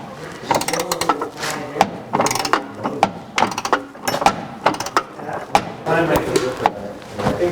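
Ratchet tightening a bolt on the AC compressor of a 1991 Acura NSX, several bursts of quick clicking strokes with short pauses between, close and fairly loud, mixed with clunks of tool handling.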